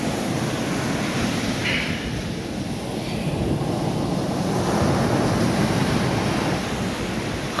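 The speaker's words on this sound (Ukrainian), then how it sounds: "як тут гарно, які тут волни" Continuous rumbling surf as big sea waves break and wash in on a shore in Odesa, Ukraine, loud and close, with gusty wind noise over the microphone.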